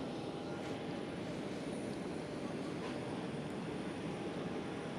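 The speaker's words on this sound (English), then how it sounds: "Now Sky Express can enter the runway" Steady broadband roar of a Sky Express airliner's engines as it moves onto the runway at Schiphol airport in Amsterdam, a constant, fairly distant rumble with a faint high whine and no speech.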